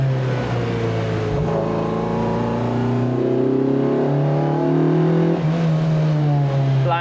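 A Lotus Elise 340R engine revs hard through a first-gear pull, its loud, rising drone climbing steadily in pitch from inside the car without hitting the limiter.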